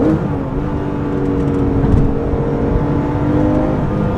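A Porsche 911 GT3 RS 997.1 engine revs near 6000 rpm on the road, a loud sustained mechanical drone with rising harmonic tones held steadily throughout, heard from inside the car.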